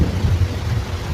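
Thunder rolls through a stormy day in the Roblox game Shawarma Kiosk: a loud, deep, continuous rumble with rain noise and no voices.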